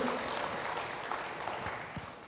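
Congregation applauding during a church service, a dense ongoing patter of many hands clapping at moderate level, slowly tapering off.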